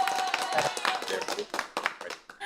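A studio audience at a Halloween special claps for the host, a moderately loud burst of hand claps that thins and tapers unevenly toward the end, with a voice speaking over it.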